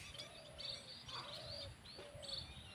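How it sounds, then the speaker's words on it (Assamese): Small birds chirp in a rice paddy field, where several thin, high tweets and short whistled calls repeat in quick bursts. The birds sound fairly distant and quiet against soft rural background noise. "এইবিলাক চৰাই পৰি আছে"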